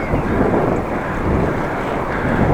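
Steady wind rushing over the microphone while cycling through the Dutch countryside beside the Eemskanaal, a loud continuous low roar with no voices.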